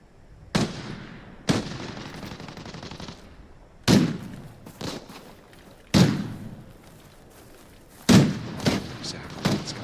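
Gunfire in the video game Arena Breakout: Infinite comes as several sharp, loud bursts spaced a few seconds apart, each with a short echoing tail and quieter rustle in between.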